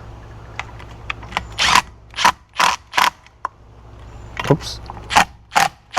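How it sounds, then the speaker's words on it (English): A washer and nut being tightened on a trolling motor mount for a Sea-Doo Switch: a run of close, sharp metallic clicks and ratcheting bursts in uneven rhythm, with a brief spoken exclamation. "So I'm gonna put the washer and the nut, tie them up."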